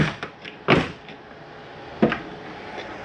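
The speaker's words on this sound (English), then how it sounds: "And close our exterior door." The exterior door of a Crossroads Redwood 4150RD RV is closed, giving two distinct thuds about a second apart, with lighter clicks and rattles between them against a quiet background.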